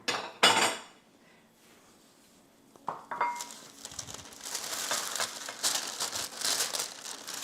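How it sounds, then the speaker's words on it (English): Chips tipped into another bowl in a home kitchen: a sharp clatter and crinkle at the start, a quiet stretch, then a run of rustling, crunchy pouring and scraping noises that build and continue to the end. "We'll put the chips in another bowl."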